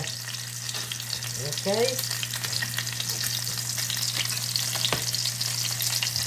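Salmon fries in oil in a pan, a steady, moderately loud sizzle with crackles and spatters running throughout, and a low hum underneath; a voice speaks briefly once.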